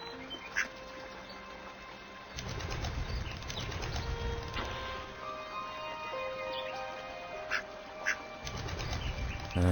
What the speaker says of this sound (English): Get rid of the duck by feeding it